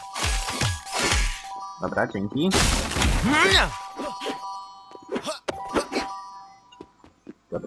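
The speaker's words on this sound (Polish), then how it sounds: "Dawajcie dzwonek." A bell rings in the 2022 Kao the Kangaroo video game in a frozen canyon level, with a bright, sustained metallic tone that lingers over game sounds while a player talks in Polish.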